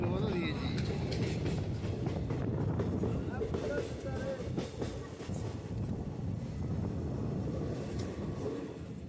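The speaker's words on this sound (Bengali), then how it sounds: "গুহার সামনে দেখুন কত বড় গুহা, তার ভিতর দিয়ে ট্রেন যাচ্ছে।" A special passenger train from Prayagraj to Howrah rumbles steadily through a tunnel, a loud continuous roar with faint clattering of the cars throughout, and people talking over it.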